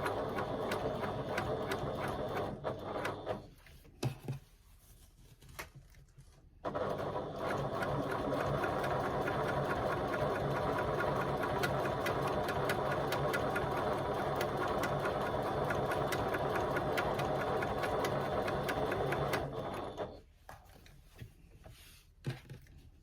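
Sewing machine stitching with brightly coloured thread, a close, steady rhythmic whir in a short burst, then a long continuous run of about thirteen seconds, pausing and ending with brief restarts.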